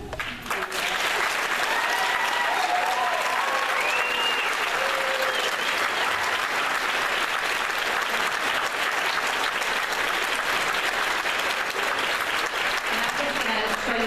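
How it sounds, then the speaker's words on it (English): Sustained audience applause at a nursing pinning ceremony, dense and steady for the full stretch, with some cheering and crowd voices mixed in. "give them a round of applause for this enormous achievement"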